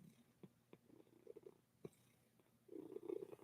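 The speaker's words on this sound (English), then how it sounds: "You are purring up a storm." A cat purrs softly and close by, a low rumbling purr that swells louder toward the end, with faint small sounds around it and no talk.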